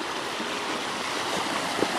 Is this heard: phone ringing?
no